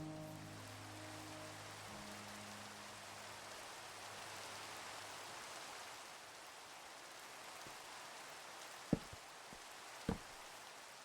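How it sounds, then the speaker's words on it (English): Rain falls in a video game as a steady soft hiss beneath a low hum. A couple of brief thumps sound near the end. "Get rid of this rain."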